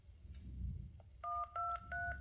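Three DTMF keypad tones are entered on a door phone, each a steady dual-pitch beep with short gaps between, preceded by low background rumble and a couple of faint clicks.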